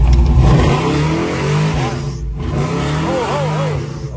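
A V8-swapped S10 truck engine revs hard as the gas pedal is pressed, a loud, close, continuous roar that rises and falls in pitch through several revs, with voices faintly underneath.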